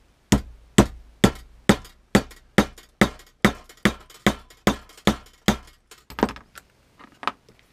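Hammer striking a flaring mandrel to flare metal tubing: about fourteen sharp, ringing metallic blows in a fast, even rhythm, close and loud, then a few lighter, uneven taps at the end, with no voices.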